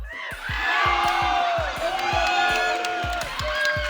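Spectators at Colossel 2022, a European gaming tournament, cheer and shout from a crowd that stays loud and continuous, with rhythmic thumps and excited voices mixed throughout.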